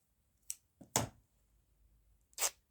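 Scissors snip through old skirt fabric or paper for a trash craft, giving a few quiet, separate close-up cuts spaced over a couple of seconds in a hushed room.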